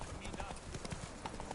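Roach the horse gallops in The Witcher 3, with quick rhythmic hoofbeats heard under a person talking over them.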